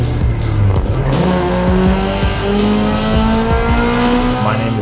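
A Honda S2000 race car roars loudly and steadily through its gears on a track, its engine note rising and falling as the tires squeal continuously underneath.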